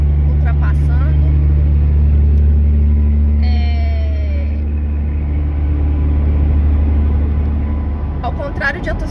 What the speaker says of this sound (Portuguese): Tem um caminhão ultrapassando.